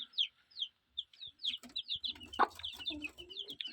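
A broody hen clucks in low, repeated bursts while her young chicks peep in quick, high chirps around her. The sounds come close and clear, with no talking.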